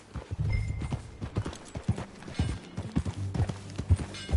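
Horse hooves clip-clop at a steady gallop in the Red Dead Redemption 2 video game, with close rhythmic thuds and occasional snorts over a busy game backdrop.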